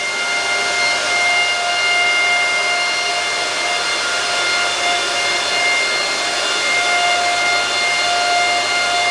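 Elphapex DG1 Dogecoin miner with its cooling fans screaming at a steady, loud, continuous roar and high whine from a couple of feet away, with no talking.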